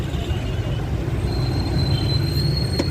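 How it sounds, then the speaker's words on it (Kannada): A metro train runs on an elevated track above Phoenix Mall near Mahadevapura, heard as a steady low rumble of wheels with a thin, sustained high squeal over road noise. "ಫಿನಿಕ್ಸ್ ಮಾಲು ಮೇಲೆ ಮೆಟ್ರೋ ಇದು ನೋಡಿ."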